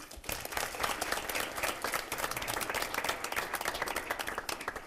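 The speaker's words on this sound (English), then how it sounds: "Please give them a round of applause." An audience at the Kidspeak 2013 event gives steady, sustained applause, with many hands clapping evenly throughout and no voices on top.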